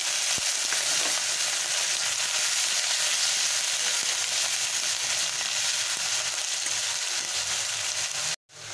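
Grated tomato hits a hot pan of oil over high gas flame, giving a steady, loud broadband sizzle that holds evenly throughout, with a brief dropout near the end.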